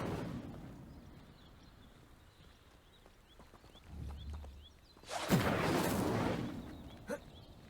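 In the Hogwarts Legacy video game, an Incendio fire spell bursts into a loud whooshing, crackling blaze as it ignites dry vines. The burst follows a quieter stretch of faint ambience and low rumbles.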